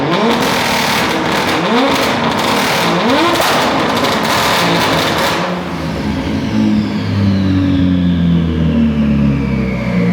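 Tuned BMW M4 engine revving hard with antilag, loud and close, rising sweeps and rough crackling bursts for about five seconds, then a steadier lower drone as it settles.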